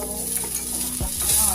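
Food fries in hot oil in a pan for paneer curry, a loud continuous sizzle close by with a couple of low thumps as it is stirred, no voices.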